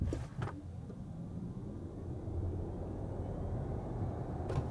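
Audi Q4 e-tron all-wheel-drive electric SUV, 300 horsepower, accelerating hard from 0 to 80 km/h, a steady rising road and tyre roar with wind noise heard from inside the cabin, no talking.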